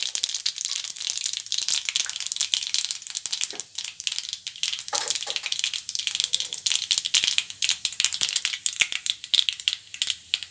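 Mustard seeds and urad dal splutter in hot oil in a pan, giving dense, irregular close crackles and pops that keep going without a break and with no voice over them.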